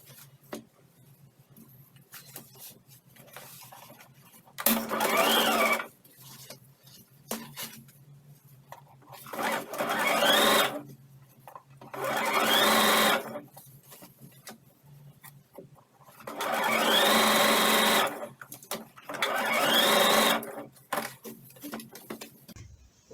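A sewing machine stitches baby-pillow fabric in four separate loud bursts of steady mechanical whirring, each a second or two long, divided by quiet gaps with faint handling taps.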